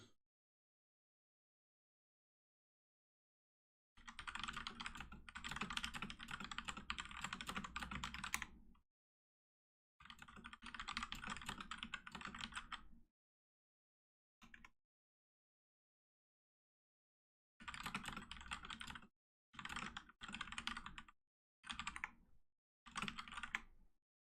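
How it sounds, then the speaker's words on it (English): Fast typing on a mechanical computer keyboard, dense bursts of crisp clacking keystrokes separated by silent pauses, close and clear, several long runs and then shorter flurries. "there's nothing better than mechanical keyboard if you can type fast"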